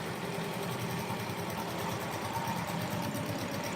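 A sewing machine runs steadily in a boutique, a continuous even mechanical hum with a faint rapid vibration, moderately quiet and alone.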